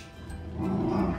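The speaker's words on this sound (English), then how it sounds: "Sorry, Tigger is growling." A dog growls low and steadily indoors, a soft continuous rumble that swells louder in the second half, heard close with no talking.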